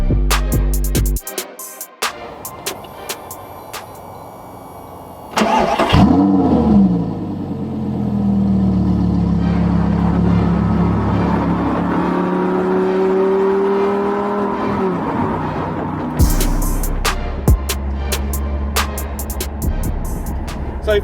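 A limited-edition Audi R8 GT V10 with a Milltek race exhaust barks into life with sharp clicks and a loud flaring start, then settles into a droning, rising engine note as it pulls away, with a final throttle blip and crackle near the end.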